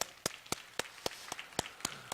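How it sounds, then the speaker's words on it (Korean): A church congregation at the Cheongna World Vision Church in Korea claps in unison, sharp evenly spaced claps about four per second, quiet and slightly distant, with no speech. "우리 하나님께 감사와 영광의 박수 올려드리겠습니다"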